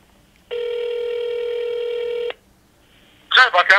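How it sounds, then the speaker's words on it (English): A telephone ringback tone plays while a call waits to be answered, one steady electronic ring lasting about two seconds, followed by silence and then a voice speaking. "So we're waiting for Joe to answer the phone."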